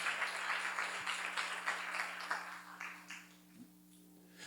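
A church congregation claps together during a sermon, a dense spread of many hands that stays moderately loud, then thins and fades out toward the end over a steady low hum.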